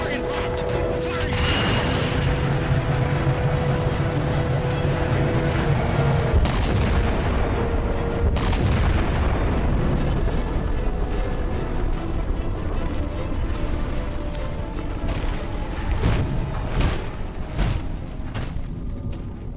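Weapon fire and explosions in the Halo 4 video game: heavy booms and rumbling blasts roll on beneath a constant layer of game noise and score, with a few sharper impacts toward the end.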